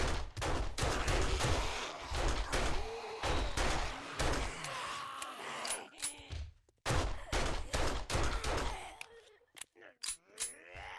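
Gunfire cuts down zombies in the video game 7 Days to Die, with rapid bursts of loud shots and impacts alongside grunts and groans, packed densely with a few brief pauses.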